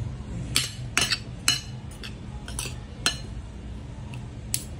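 Green mango salad tossed in a bowl with bagoong, giving a string of close clinks and scrapes of a utensil against the dish, irregular and fairly light over a quiet room background.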